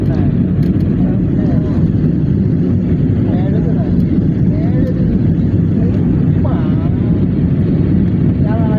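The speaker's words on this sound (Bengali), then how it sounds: "বিমানটা একটু কাত হচ্ছে," Steady, loud engine drone of an airplane banking in flight over Dhaka fills the whole stretch, with a voice talking intermittently over the roar.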